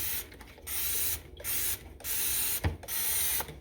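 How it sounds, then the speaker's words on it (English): Spray hisses onto a rusty, dusty surface in four long, steady bursts separated by short pauses, fairly close and with no talking. "So we spray it down good"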